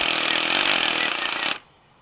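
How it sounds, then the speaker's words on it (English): A hammer drill bores a bolt hole into rock, a loud, dense, rapid pounding roar that holds steady for about a second and a half and then cuts off abruptly. "So we're gonna now drill it all the way down."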